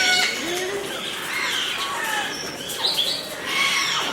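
Budgies and cockatiels fill an aviary with a dense, continuous chatter of chirps, tweets and squawks, several birds calling at once close by, with occasional wing flutters.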